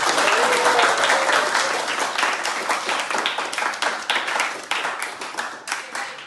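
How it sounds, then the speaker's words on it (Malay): Students in a classroom break into applause, a loud, dense round of hand clapping that starts strong and gradually thins out over about six seconds, with a faint voice briefly underneath at the start. "Tepuk tangan"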